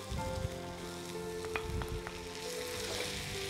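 Tomatoes added to softened onions frying in a pan, a soft continuous sizzle with faint crackles throughout.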